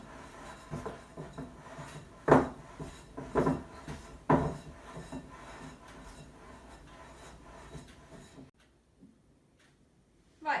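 Icing sugar is stirred into a mixture in a bowl, giving soft rubbing and scraping sounds with several louder knocks of the utensil against the bowl, followed by quiet near the end.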